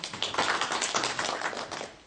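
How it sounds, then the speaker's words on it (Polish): A room of listeners at a health talk on ganoderma in Tychy gives a burst of brisk, dense applause, a continuous close patter of many hands lasting about two seconds, with no voices over it. "Give young lady a big applause."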